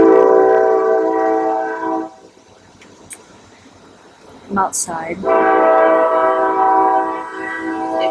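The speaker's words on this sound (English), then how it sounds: "There goes the train." A train horn blares loud and close outdoors, stops, then sounds again with rumbling railcars as a train passes by. A person speaks briefly in the quiet gap between the horn blasts.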